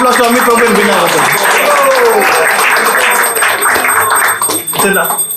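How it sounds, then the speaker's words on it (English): An audience claps in applause for a couple hosting a Bhakti Vriksha gathering, a dense steady patter of many hands close by with a few voices mixed in, fading slightly near the end. "please give a round of applause to Amit Prabhu and Beena"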